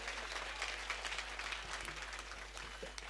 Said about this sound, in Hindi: राजू को भी जोश आए श्रोताओं को होश आए, एक बार जोरदार तालियां बजाइए।